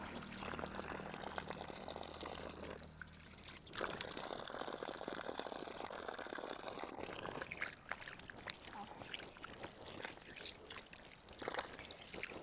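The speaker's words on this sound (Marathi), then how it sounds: "आपण आता हे स्वच्छ गार पाण्याने धुवून घेऊ आणि नंतर रिझल्ट पाहू" Face being washed with cold water: splashing, trickling and pouring water in irregular bursts, close and fairly quiet, with a low tonal hum at the start.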